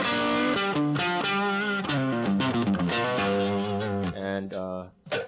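An electric guitar plays a crunch tone through a Hotone Ampero multi-effects unit, loud, lightly distorted chords and single notes in a lively rhythm that ends with a few sustained notes.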